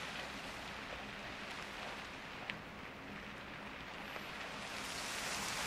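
Rain pours steadily in a home-alone house exploration game, a soft, even hiss of falling water that holds at a constant level for several seconds with a couple of faint ticks, and no talking.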